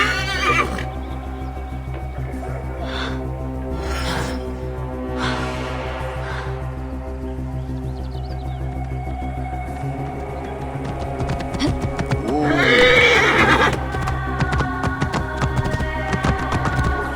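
A horse in the Assassin's Creed Origins video game whinnies loudly several times in bursts, with a steady low game hum underneath and a faint clip-clop of hooves, no voices.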